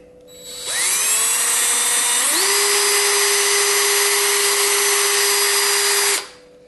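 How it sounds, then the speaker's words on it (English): A power drill with a 3/16 inch bit boring through a pack frame, a steady high whine that starts up, shifts pitch briefly, then runs continuously before stopping. "we're going to take our 3/16 inch drill bit, we're going to drill a hole all the way through the frame"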